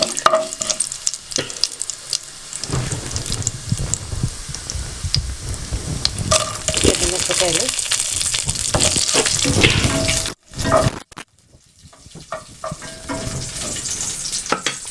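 Urad dal, cumin and mustard seeds sizzle and crackle in hot oil for a tempering, a loud, steady frying hiss with stirring clatter and a short break near the end.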